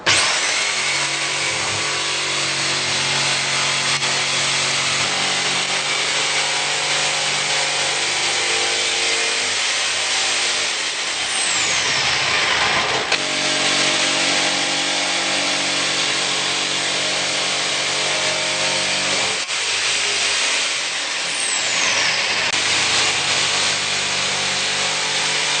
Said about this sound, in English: And then we'll just jigsaw along the line all the way around the window